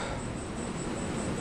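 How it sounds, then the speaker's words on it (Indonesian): Ocean waves rumble steadily onto a beach once struck by a 2018 tsunami, a loud, unbroken roar with no distinct breaks. "bergemuruh ya, deru ombak ini."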